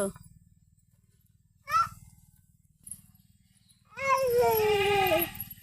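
Goats bleat on a farmyard with chickens around, first in two short calls and then in a long, loud, quavering bleat near the end, over a steady low rumble.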